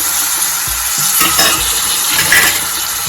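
A spoon stirs masala with turmeric powder in a hot pan while cooking masala Maggi, giving a steady loud sizzle broken by repeated scraping strokes and no voices.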